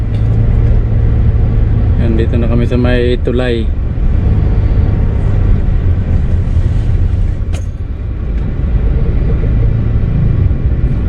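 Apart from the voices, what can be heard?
heavy road traffic entering Naga City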